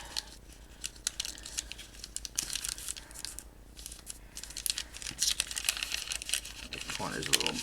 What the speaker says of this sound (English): I'm going to fold this up.